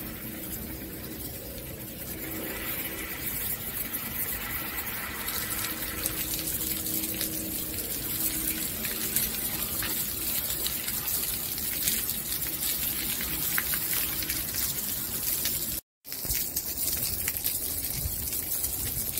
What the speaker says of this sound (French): On voit l'eau quand même s'infiltrer